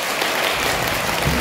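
Children in a school assembly hall at Abhinav Bal Vikas Mandir, Nashik, burst into loud, dense clapping, a continuous wash of many small hands heard up close for a short moment.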